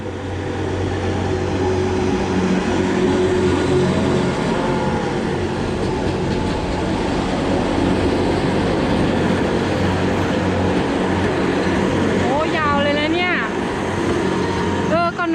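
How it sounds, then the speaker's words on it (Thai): A train rumbles steadily past close by near Zermatt, Switzerland, a continuous loud roar with rail clatter and a squealing screech near the end, voices audible over it. "ว้าวรถไฟรถไฟ"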